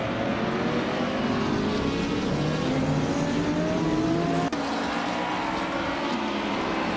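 Race car engines in a racing game roar loud and steady for several seconds, pitch slowly climbing as they accelerate, with a brief dip near the end, no voices.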